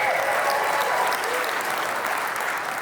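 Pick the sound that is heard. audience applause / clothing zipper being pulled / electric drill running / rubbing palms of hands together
audience applause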